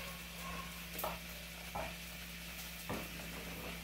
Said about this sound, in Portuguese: minha carninha já tá bem refogadinha